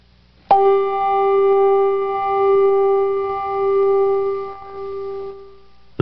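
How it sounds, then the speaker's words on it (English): A Malmark G4 handbell struck with the felt-covered soft clapper position gives a single soft, muted ring that sustains steadily for about five seconds, close and alone. "On the G4 bell, the soft position surface is covered with felt, producing a very soft, muted sound."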